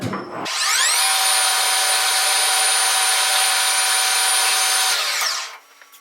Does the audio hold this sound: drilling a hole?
yes